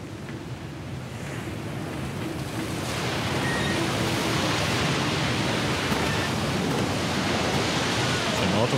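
An ocean wave surges in the Call of Cthulhu: Dark Corners of the Earth game as a broad, rushing roar. It swells louder over the first few seconds, then holds at a steady crashing wash.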